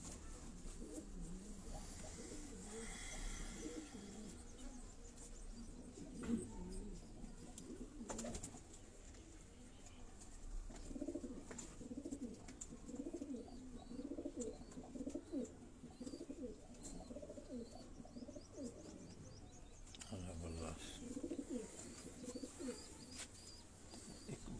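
Pigeons cooing softly in a loft yard, low repeated coos at a distance under steady background noise, with a few faint chirps and passing sounds.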